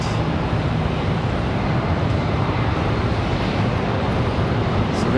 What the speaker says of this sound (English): So there's the 737 One World.